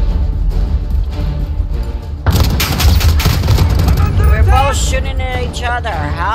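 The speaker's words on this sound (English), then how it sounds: "We're both shooting at each other." A gunfire exchange in Modern Warfare 2022 at a shipping area, bursts of loud shots erupting after quieter background sound, with a voice speaking over the firing.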